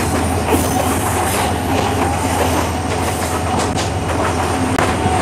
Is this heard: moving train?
yes